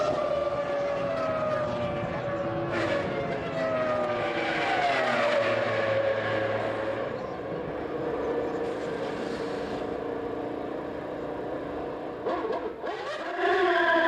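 A Formula One car screams down the Hangar Straight into Stowe Corner at Silverstone at about 190 mph in 2000, its high engine whine sustained and shifting in pitch for the whole stretch, with a gearchange near the end.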